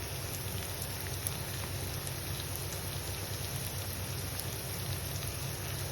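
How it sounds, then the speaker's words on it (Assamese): Banana flower fries in a pan with salt and turmeric, giving a steady, dense sizzle close by that holds at an even level with no pauses and no voices. "গতিকে এই কলডিলৰ কেঁহা গুণটো যাবৰ কাৰণে মই এইদৰে নিমখ হালধি দি অলপ সময় ফ্ৰাই কৰি"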